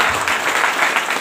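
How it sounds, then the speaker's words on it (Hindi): An audience at a celebration event claps in a dense, continuous burst of applause, fairly loud and close, with no speech over it. "जबरदस्त ताली होनी चाहिए दोस्तों।"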